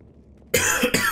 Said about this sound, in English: Oh god, stop coughing